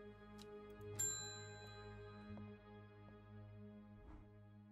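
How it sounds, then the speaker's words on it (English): A bell rings in the puzzle game Strange Horticulture: one bright metallic ding with a long ringing decay over soft, sustained background music, followed by a few fainter chiming accents. "Let's go ahead and ring the bell."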